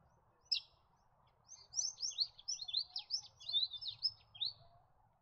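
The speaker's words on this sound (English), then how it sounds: "Another bird you'll see at the town common and in open forested areas is the forest kingfisher." Forest kingfisher calling in open forested country, a rapid series of sharp, high chattering notes running for a few seconds, fairly clear against a faint background hum.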